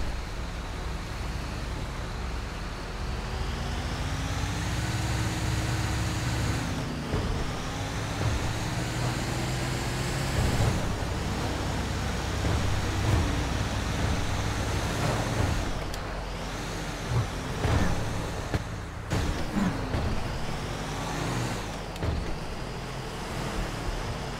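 A tow truck in GTA 5 hauls an RV trailer with seized wheel bearings, its engine droning steadily and rising and falling in pitch through gear changes over continuous road rumble, with no talking.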